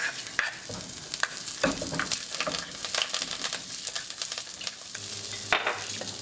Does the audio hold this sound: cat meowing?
no